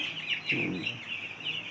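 Poultry on a small farm of one to two hundred birds, a flock of young chickens chirping continuously in high peeps with a low cluck mixed in, moderately quiet and without talk.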